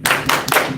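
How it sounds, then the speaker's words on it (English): Clapping from a small group after a child stands and shows something during an Igbo lesson, a few quick bursts of hand claps, close and fairly loud, with no talking over them. "Clap for Artemis, please"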